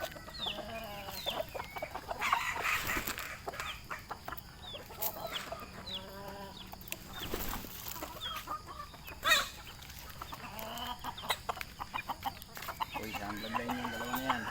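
Kelso gamefowl roosters, young cockerels around five months old, crow and cluck repeatedly in a noisy yard, with several overlapping calls near and farther off and a louder burst partway through.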